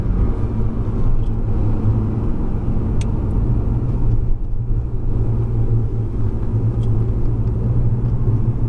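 Porsche 911 Carrera S lapping the Circuit du Laquais, its engine a loud, continuous rumbling drone close by, steady throughout with only slight swells as the throttle is worked.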